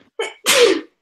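A single loud sneeze: a short sharp intake followed by an explosive burst, close by and alone.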